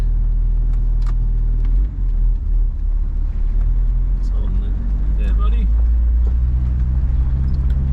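A 4x4 driving along a bumpy unsealed track on the Westall Loop, Eyre Peninsula, South Australia, a loud close cabin drone of engine and tyres with rattles and jolts while people talk over it.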